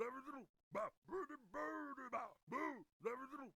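A deep, lowered-pitch halberd unit voice from Totally Accurate Battle Simulator utters a series of short grunting vocal bursts in quick succession, alone.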